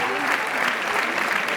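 A crowd at a traditional Rwandan dance performance claps steadily, a dense, even wash of applause at moderate volume, with faint voices mixed underneath.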